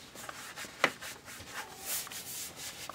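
A cloth rubbing down a dirty car headrest during interior detailing with Adam's Polishes, giving soft, close scrubbing strokes at a low level with a few brief brushing swishes and no talk.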